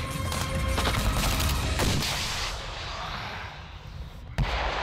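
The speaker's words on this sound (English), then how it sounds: "when the tank and the grenade launcher open up alongside you" A tank gun and grenade launcher fire in a mountain combat setting, starting with loud booming blasts and rolling rumble that decay into a long echo, with a final sharp report near the end.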